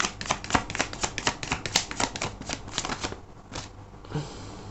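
A deck of tarot cards is shuffled close up in a quiet room, a rapid run of crisp riffling snaps and flutters that slows, pauses, then ends with a softer rustle.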